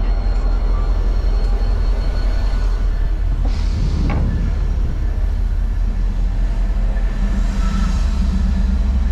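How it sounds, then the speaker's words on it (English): A train passing on a cold day in Kansas City, a loud continuous low rumble heard from nearby with a brief squeal partway through. "Oh, there's another train."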